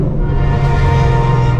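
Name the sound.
Shelby GT500 engine revving in a tunnel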